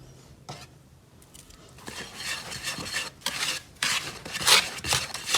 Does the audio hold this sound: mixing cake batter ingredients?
yes